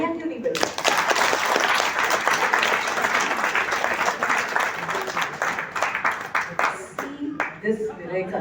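Loud, dense clapping from a seminar audience fills the room almost continuously, with individual claps sharpening and thinning toward the end as the applause fades.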